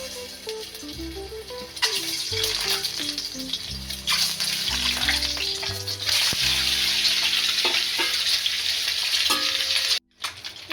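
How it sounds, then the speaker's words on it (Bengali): Halved boiled eggs fry in hot oil for a Bengali egg pulao, giving a steady, loud sizzle. Low tonal music runs underneath, and a brief dropout near the end cuts the sound off for a moment. "এখন আমি ডিমগুলো সব ভেজে নেব"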